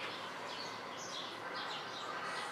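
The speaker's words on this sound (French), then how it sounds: "On entend quoi? Les oiseaux." Birds chirping outdoors on a spring day, faint and distant high tweets over a soft steady background hiss, with no talking.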